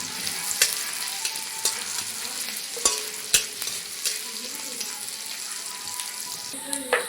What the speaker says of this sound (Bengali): আদা আর লঙ্কা ভালো করে ভেজে নিয়েছি